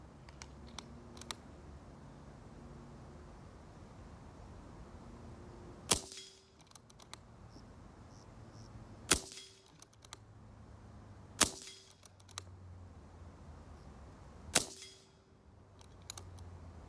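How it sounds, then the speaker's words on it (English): A Kral Puncher Mega 2 .22 caliber air rifle fires four sharp, separate shots a few seconds apart, each a crisp crack over a quiet background with small clicks of handling between shots. "Let's go for the next 10 shots."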